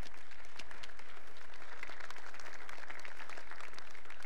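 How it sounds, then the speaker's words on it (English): Concert audience at a school band concert applauding the piano accompanist, a steady wash of many hands clapping at moderate distance, sustained evenly throughout with no voices. "So can we give her one more round of applause?"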